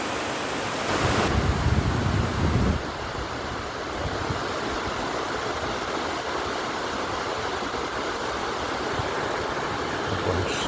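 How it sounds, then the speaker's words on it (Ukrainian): A waterfall on the river Lahn in Marburg roars as a steady, dense wash of rushing water, loud and continuous, with a brief louder burst near the start and wind buffeting the microphone. "а це річка Лан і водоспад на ній"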